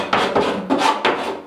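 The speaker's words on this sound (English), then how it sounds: "I scrape off any silicone that might be on there" A scraper is dragged over a wall to strip old silicone, giving four short, rasping scrapes in quick succession, close and fairly loud, with no one talking.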